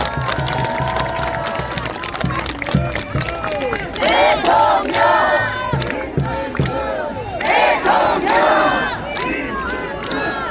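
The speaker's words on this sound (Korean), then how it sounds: "박수 한번 해주세요." A large crowd at an outdoor presidential election rally for People Power Party candidate Kim Moon-soo at Bucheon Station's north plaza erupts in loud, sustained cheering and shouting, with surging bursts of voices and some clapping.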